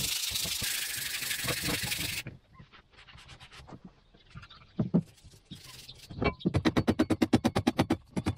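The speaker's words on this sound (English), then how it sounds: "I'm gonna have to sand that rust off there." Rust is sanded by hand off an old racing kart part, a loud hiss of rubbing for about two seconds followed by a quieter pause and then a run of rapid, rhythmic scraping strokes.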